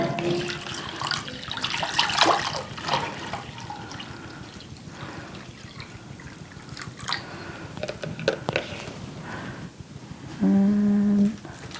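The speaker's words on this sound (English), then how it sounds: "we are going to add the solution to the Pyrex dish" Solution poured into a 4-cup Pyrex glass dish for a Jiffy seed starting greenhouse kit, a steady watery trickle and splash close by, ending in a louder, fuller pour.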